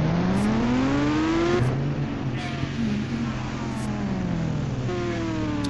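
A motorbike in the Indian Bike Driving video game runs steadily, its engine tone rising and falling smoothly as the rider accelerates and shifts, with the whine holding up close throughout.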